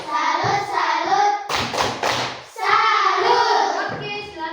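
A classroom group of Catholic religious-education pupils gives a rhythmic clapping salute, sharp claps in short bursts interleaved with chanted voices, close and loud.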